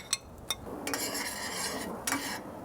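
A utensil scrapes and clinks in a pan as garlic is stirred in about a teaspoon of melted butter on an adjustable grill, with short knocks and a soft sizzle between the strokes.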